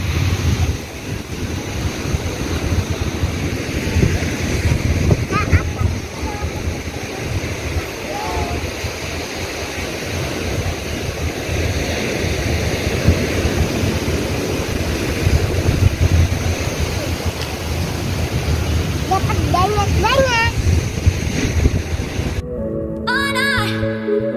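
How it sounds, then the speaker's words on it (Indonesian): Steady surf and wind roar fill a beach at Gunung Kidul, Yogyakarta, broad and continuous, with faint voices and a brief tonal sound near the end. "Ini pantai di Gunung Kidul"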